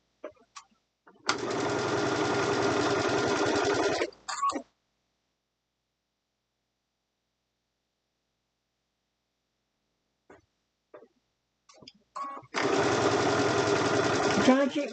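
A sewing machine on a Crafter's Companion Gemini setup stitches a braided table runner block in two loud, steady whirring runs separated by a long quiet pause with a few faint handling clicks.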